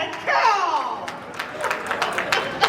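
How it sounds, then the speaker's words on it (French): Audience applause at a seventh-anniversary celebration, starting under a voice and then continuing as scattered, moderately loud clapping from a crowd, with a few sharper individual claps standing out. "Continuez par applaudir"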